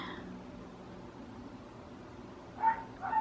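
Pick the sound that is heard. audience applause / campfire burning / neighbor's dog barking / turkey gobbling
neighbor's dog barking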